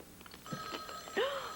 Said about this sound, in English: every time that phone rings